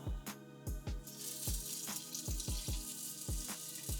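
Water poured into a pot while cooking beef Spanish rice, a running stream with repeated sloshing glugs, close and steady, no talking.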